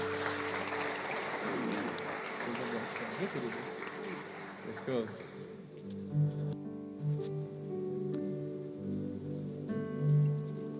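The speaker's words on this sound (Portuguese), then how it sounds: "Fala para o Senhor com suas palmas, igreja." A church congregation claps during a service, a busy patter of many hands filling the first half and fading out, after which a voice and tonal music continue without the clapping.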